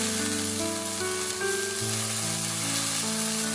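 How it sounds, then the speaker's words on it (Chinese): Minced ginger and garlic stir-fry in a hot wok with a steady, even sizzle, while sustained musical tones play in the background. "再把姜蒜末全部放到锅里给它翻炒一下"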